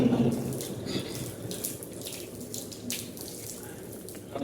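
A tap runs steadily during wudu ablution washing, water splashing into a sink with a soft continuous hiss and gurgle, close by and moderately loud, with no talking over it.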